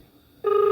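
A phone rings out on a call to a Goa self-drive car rental company, a steady electronic ring tone starting abruptly partway through and holding loud and close after a quiet line.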